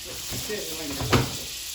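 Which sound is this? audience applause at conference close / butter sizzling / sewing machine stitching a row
butter sizzling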